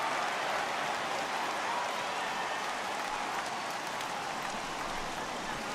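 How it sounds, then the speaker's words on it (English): Heavy rain pours steadily in a baseball video game between the Phillies and Cubs, a dense, even hiss of downpour holding at constant loudness throughout with no talking. "that rain is really coming down right now"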